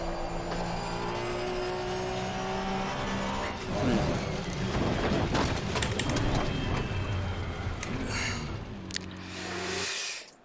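A Porsche Cup race car in Assetto Corsa Competizione, its engine droning and revving hard with shifting pitch, loud and up close, fading out sharply at the end.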